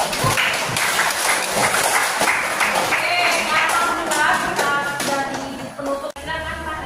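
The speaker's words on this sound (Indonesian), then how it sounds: "untuk pembelajaran kita hari ini kita boleh tepuk tangan lagi dong" Classroom applause from students at the end of a lesson on bullying, uneven clapping mixed with taps, shuffling and scattered voices, fairly loud and close, tailing off near the end.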